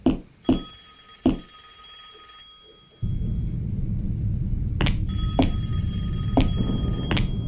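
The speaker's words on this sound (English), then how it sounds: "Let me try to pick up the phone now." A telephone rings in the horror video game Intruder, giving a few sharp repeated bell rings, then a steady loud rumble of background noise with more rings over it.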